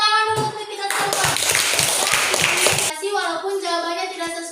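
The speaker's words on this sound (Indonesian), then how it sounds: "Tepuk tangan dulu untuk kita semua." A class of pupils at an Islamic primary school claps hands together in a classroom; a burst of quick, close clapping lasts about two seconds, framed by a teacher's voice before and after.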